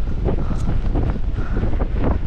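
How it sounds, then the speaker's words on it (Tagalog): Strong wind buffets the microphone on the summit of Mount Napulak, a loud, continuous low roar with gusty surges and rumbling pressure from start to finish. "Ang hangin dyan, sarap oh."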